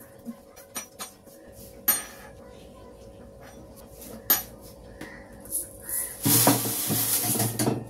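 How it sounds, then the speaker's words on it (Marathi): Rice being scooped out and a pressure cooker set up in a home kitchen: scattered metallic clinks and knocks of utensils and pots at moderate loudness, ending in a louder rushing, hissing clatter. "आता पटकन तांदूळ काढतो आणि कुकर लावतो"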